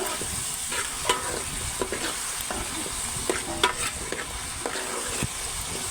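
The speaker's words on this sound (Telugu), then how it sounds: "పసుపు వేసుకొని మొత్తం కలిసేలా ఒకసారి ఇలా కలపెట్టుకోవాలి" Onions with turmeric fry and get stirred in a pan: a continuous sizzle under repeated spatula scrapes and clicks at irregular intervals, close and fairly loud, with no voices.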